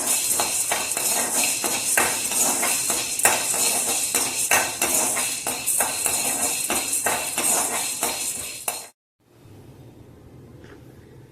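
Black peppercorns are dry-roasted in a pan for Iyengar sambar powder, giving a dense, rapid rattle and clatter of stirring against the metal. The sound stops abruptly near the end, leaving quiet room tone.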